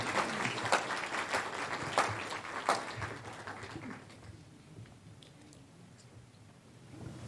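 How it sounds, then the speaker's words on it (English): An evening audience applauds as a speaker is welcomed onto the stage, the clapping strongest for the first three seconds and then thinning to a softer patter before it builds slightly again near the end. "So a round of applause, please."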